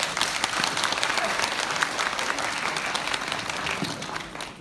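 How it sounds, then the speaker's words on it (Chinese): A theater audience claps at a crosstalk comedy show in Guangdelou's evening performance, producing a dense, steady roar of applause that holds at full strength throughout before easing slightly at the end. "谢各位的掌声鼓励， 要是能够再热烈点就更好"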